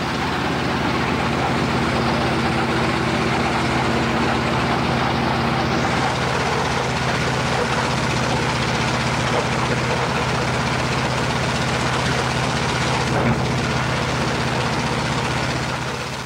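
A Fairey Swordfish biplane's radial aircraft engine runs steadily, a loud, dense, continuous rumbling drone close by with faint tonal hums and no break over sixteen seconds.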